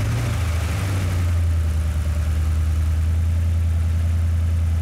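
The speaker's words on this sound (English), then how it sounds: "I start the engine." A car engine cranks and catches at the start, then settles into a steady, loud idle during an ignition coil spark test with fuel injection disabled, a continuous low hum with no voices.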